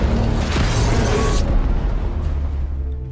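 Missile strike from a fighter jet in a film, a loud deep explosion with a bright burst of debris that cuts off abruptly and leaves a low rumbling tail.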